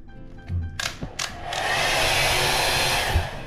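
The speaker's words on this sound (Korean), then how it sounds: "드라이기." A hair dryer in a hotel room clicks on after a few handling knocks, then blows with a steady, loud airflow rush that continues to the end.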